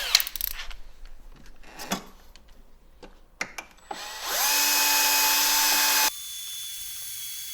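A power drill with a 5/64 bit whines steadily at high pitch for about two seconds, close and loud, after scattered clatter and handling noises, drilling a 2023 Ski-Doo Expedition SE 900 ACE snowmobile.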